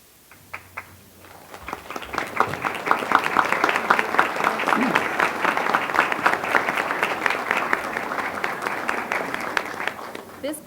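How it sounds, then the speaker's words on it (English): An audience at a formal school board meeting stands and applauds, a dense sustained wash of clapping that builds quickly after a few scattered claps and stays steady for several seconds, with a voice briefly audible at the start. "Please stand so that we may show our appreciation through applause."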